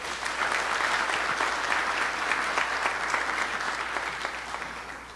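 Steady applause from a congress audience, a continuous dense patter of many hands at moderate distance, holding even for several seconds before tapering slightly.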